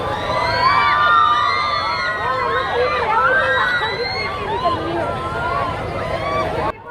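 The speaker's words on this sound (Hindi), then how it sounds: "इतना शोर हो रहा है बच्चों का।" Children shriek and shout continuously on fairground rides at a rose festival at Punjab University in Chandigarh, a dense crowd of high excited voices that stays loud throughout.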